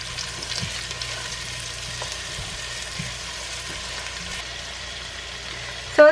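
Onions cooking in bacon grease for collard greens, a soft continuous sizzle in the pan with a few faint stirring knocks and a sharp clink at the very end; no talking.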